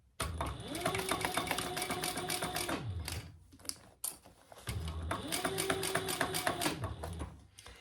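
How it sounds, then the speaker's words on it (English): A sewing machine stitches around the top of a crossbody bag in two runs of rhythmic mechanical whirring, split by a brief pause with a couple of clicks. The sound is moderately loud and close. "now we are going to sew around the top"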